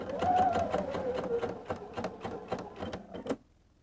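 A sewing machine stay-stitches around the front piece of a shirt, running at a steady clip with rapid needle ticks, then stopping abruptly near the end, close and clear with no voices.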